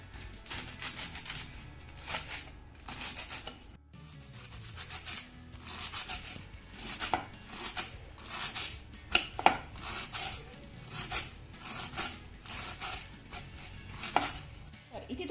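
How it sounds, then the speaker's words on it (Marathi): A knife chops finely through taro (colocasia) leaves on a board, producing steady rapid taps in close succession, with a few sharper louder strikes. The chopping is close and no one speaks. "त्यानंतर आपल्याला ही पानं बारीक चिरून घ्यायची आहेत"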